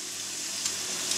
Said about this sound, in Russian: Хорошо разогрели сковородку, тоже немножко туда маслица